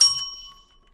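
A single bright bell ding that strikes sharply and rings out with a clean, slowly fading tone for about a second, heard alone and close.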